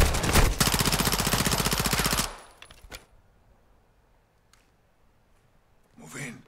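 Call of Duty: MWII campaign gunfire: a loud, rapid sustained automatic burst for about two seconds, then a few isolated shots and quieter game ambience, with a closing burst as voices talk in the game.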